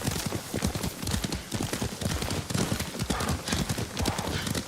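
Steady, rapid hoofbeats of a horse at a brisk gait in the video game Ghost of Tsushima, loud and continuous throughout, with a busy rustling background.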